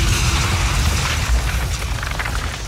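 A deep, rumbling explosion roars loudly and continuously, with a dense low boom and broad noise that barely fades across the short span.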